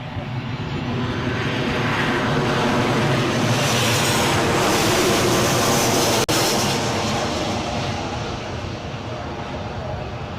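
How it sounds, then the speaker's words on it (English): An inbound airliner approaches Newcastle airport with a broad, steady engine roar that swells toward the middle and then eases slightly. "Let's have the inbound plane."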